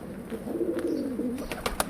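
A blue tumbler pigeon coos softly in a low, rolling murmur, with faint clicks and rustles around it, fairly close.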